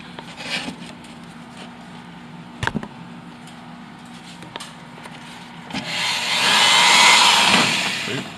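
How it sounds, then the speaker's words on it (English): A power drill bores a hole during a geodesic dome restoration. It starts after several scattered knocks and clatters, then rises into a loud, steady whirring grind that holds for about two seconds. "Alright, I'll drill my own."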